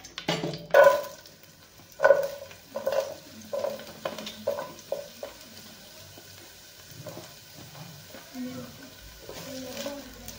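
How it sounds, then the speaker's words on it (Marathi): Something sizzles gently in a pan while a spoon knocks and stirs in irregular bursts, the clatter loud at first and softer later. "त्याच कढईमध्ये आता आपल्याला मस्त असा कांदा भाजून घ्यायचा आहे।"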